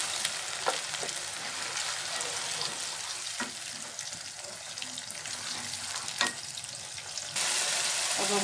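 Onions sizzle and fry steadily in a pan for palak chicken, a continuous crackling hiss with occasional stirring clicks, growing louder near the end.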